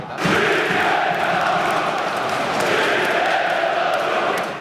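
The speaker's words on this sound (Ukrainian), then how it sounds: "Наші у відповідь закричали Героям слава і підсилили патріотичною кричалкою сябрів." Football fans at a Belarus–Ukraine European Championship qualifier chanting patriotic slogans, a dense, roaring crowd of many voices shouting together in a big stadium, steady and loud throughout.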